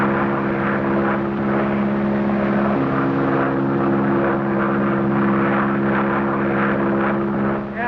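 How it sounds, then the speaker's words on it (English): A propeller airplane drones loudly and continuously overhead, its engine giving a steady humming throb that shifts slightly in pitch partway through. "Plane, and if our tip is right, Crowley's in it"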